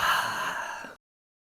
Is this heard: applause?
no